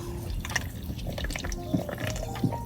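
Someone sips mojito-flavored sparkling water with soft liquid gulps and faint fizzing, a couple of small swallows standing out over a steady low background hum.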